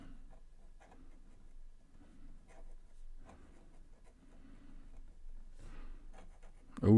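A Pilot Birdie fountain pen is held upside down and its nib writes on paper, giving faint, scratchy strokes in short repeated bursts. A sudden louder noise comes at the very end.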